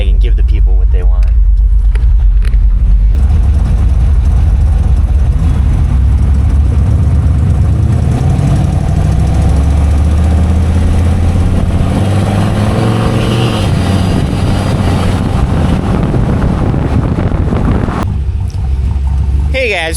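A turbocharged LS engine in a 2500HD truck with a solid axle swap idles with a deep, lumpy rumble, loud and close, rising into a louder roar midway before settling again; people talk over it at times.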